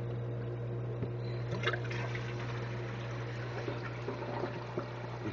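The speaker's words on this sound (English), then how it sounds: "And I turn on the water." Water running steadily from a tap into a diatom filter intake, a continuous soft rush with light splashing over a low hum.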